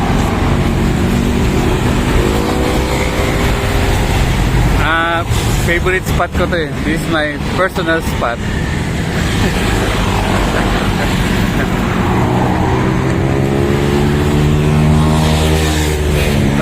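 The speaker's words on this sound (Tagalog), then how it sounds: "Sabi, daming sasakyan." Steady roar of heavy road traffic with many cars and motorbikes passing at a busy roadside spot with a one-sided bike lane, loud and continuous under someone talking close by.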